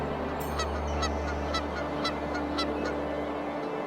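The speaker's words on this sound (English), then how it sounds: "The lull of the night is quickly shattered by the symphony of birds and crowing roosters." Birds call in an Indian village at dawn, with a goose-like honking that repeats at a steady clip over a low, constant background hum.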